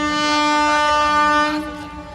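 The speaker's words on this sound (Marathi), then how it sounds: "ट्रेन येते तुम्हाला पाहू शकता" A train rolls past on the railway track beside a cricket ground in Diva–Agasan after rain, its horn blaring loud and close in a long sustained blast that fades near the end.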